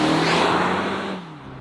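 A 2024 Mazda CX-5 G25 Touring with a naturally aspirated engine driving on the road, a steady droning engine and road hum that eases off near the end, heard from inside the car.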